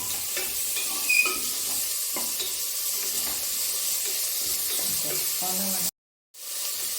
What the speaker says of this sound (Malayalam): രണ്ടല്ലി വെളുത്തുള്ളി ചെറിയൊരു കഷ്ണം ഇഞ്ചി എല്ലാം കൂടി ഒന്ന് വഴറ്റിയെടുക്കാം